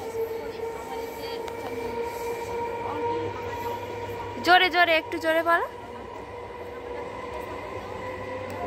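A train passes nearby with a steady rolling rumble and a brief, loud tonal blare in the middle, while children's voices talk over it.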